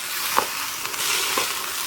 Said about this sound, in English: we're going to cook the beef, and as you can hear, it's sizzling away